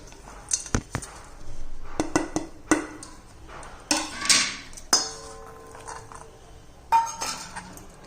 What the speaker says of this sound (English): First mix everything, all masala in it, and mix it well.